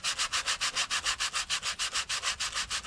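Sandpaper rubbed back and forth in steady, even strokes, about six per second, close and loud with no other sounds, during a campervan upgrade.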